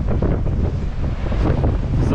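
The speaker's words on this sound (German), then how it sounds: "jetzt ist gerade so ein kleiner Sandsturm" Gusty wind whips across a beach in Kenting, Taiwan during a small sandstorm, a loud continuous roar buffeting the microphone and swelling in waves with no pause.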